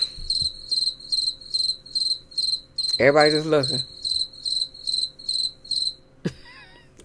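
Crickets chirp in steady, rhythmic pulses throughout, with a brief burst of other noise midway and a few words spoken quietly near the end.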